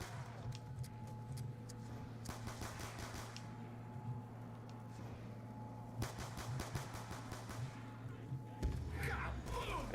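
Rapid pistol gunfire from dual 5.7 pistols shooting zombies in a video game, quick clustered bursts of shots at a moderate, slightly distant level, mixed with game noise and someone talking over it.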